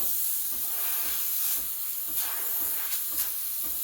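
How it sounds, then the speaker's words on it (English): A Breville Barista Express steam wand steams milk at full pressure with a steady, loud, close hiss and a faint airy rush, running alone for a few seconds with slight surges. "when you steam, you want to keep the steam wand tip close to the surface, and try to spin it in a circle"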